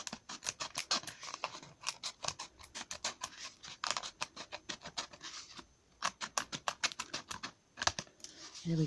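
Plant pots having their bottoms cut off in a greenhouse, a rapid run of crisp snipping and crunching cuts, close and fairly loud, with one brief pause before the cutting resumes.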